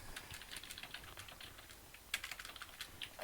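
Fingers type on a computer keyboard in quick, irregular bursts of soft clicking, close and fairly quiet, with no talk.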